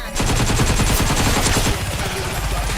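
Rapid automatic gunfire in the Russian FNAF 5 video game, a fast loud stream of shots close up, easing slightly toward the end with no talk.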